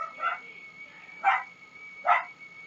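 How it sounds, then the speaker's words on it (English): Dogs bark three times in separate, evenly spaced short barks, somewhat distant and fairly faint, over a quiet background hum. "And there's my dogs barking."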